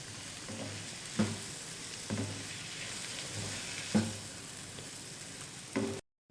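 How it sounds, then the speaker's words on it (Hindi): Tomatoes fry in butter in a pan with a steady, fairly quiet sizzle. A few sharp stirring knocks cut through it before the sound stops abruptly near the end. "टमाटर फ्राई हो चुके हैं।"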